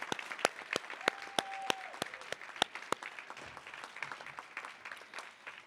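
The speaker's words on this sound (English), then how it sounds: "So let's give everyone one final round of applause." Audience at an awards ceremony claps, starting with sharp separate claps that quickly fill into a moderate, fairly distant round of applause, then thin out toward the end.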